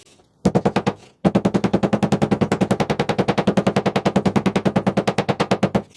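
A wooden inlay is driven into a routed recess with a hammer: a short burst of blows, a brief pause, then a long, fast, steady run of sharp, loud, evenly spaced strikes close by, with no voices.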